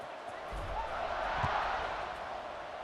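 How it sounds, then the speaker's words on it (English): A football stadium crowd at a Clemson vs Oregon game hums and roars steadily in the distance, with a broad murmur that swells slightly midway, under a commentator's voice. "this crowd is buzzing after that last score"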